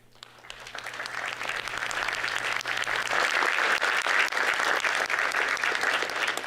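Applause at a city council inauguration ceremony, following a trio from a symphony orchestra: clapping swells in over the first second from a few hands to a steady, dense round from the whole room, fairly distant and even.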